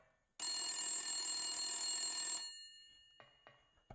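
A telephone rings in a single long, loud electronic trill within the PS1 video game Silent Hill, then cuts off, leaving a few faint clicks and knocks in near silence.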